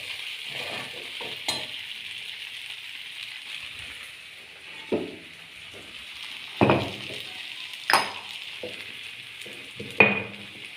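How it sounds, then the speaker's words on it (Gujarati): Khichdi tempering sizzles in a pan as a steady, close hiss, broken every few seconds by the scrape and clink of stirring. "ખીચડી વઘારાઈ ગઈ ને"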